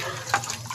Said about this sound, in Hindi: इसमें मैं 5 से 6 लीटर पानी ऐड करूँगी